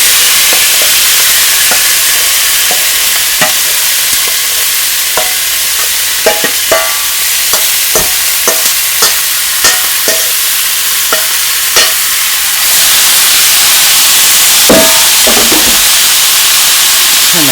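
Onions fry in oil in a pan with a loud, steady sizzle and hiss, punctuated by frequent sharp clicks and scrapes of stirring up close.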